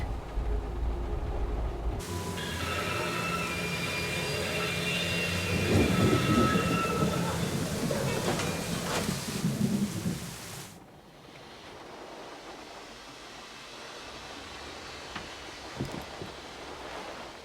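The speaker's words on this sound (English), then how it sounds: "We can go as soon as this storm's over" Stormy weather in the video game Syberia: The World Before, a steady wash of rain with low rumbling thunder swelling through the first ten seconds, then dropping to a quieter rain bed with a few faint knocks.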